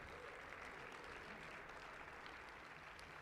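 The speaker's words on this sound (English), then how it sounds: "Let's give one more big round of applause to all of our bowl season besties winners." An audience at a bowl season awards ceremony claps steadily, a dense, even wash of applause from a large room that holds constant throughout, with no voices standing out.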